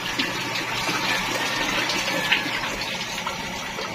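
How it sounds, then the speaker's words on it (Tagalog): A water pump runs with water flowing, a steady dense rush and hiss close by that holds unchanged for several seconds without any voices. "The pump still on."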